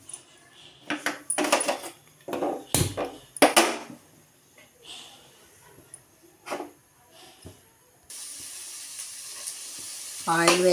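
Onions and green chillies frying in hot oil, with clattering utensil knocks and scrapes, then a loud steady sizzle rising toward the end.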